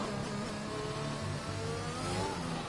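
A race car in F1 2021 at Portimao overtakes another with a steady, faint engine whine. The revving tone holds level and shifts slightly in pitch as it passes.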